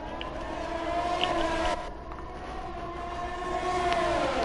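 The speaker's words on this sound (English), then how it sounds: "And that is a train!" A video game train rumbles past in an F1 race at Italy, with a long, wavering horn-like tone over steady mechanical noise, moderately loud, without any talking.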